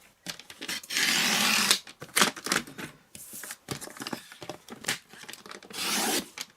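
Paper being trimmed to size for a stamped hinge card, a series of dry rasping, tearing-like strokes in several bursts with short gaps, close and fairly loud, with no voices.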